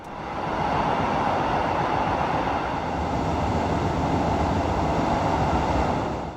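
Vintage 1970s-era MA100 metro car running on Naples Metro Line 11, a steady, loud rolling roar of wheels and motors that swells in and holds throughout, with no voices.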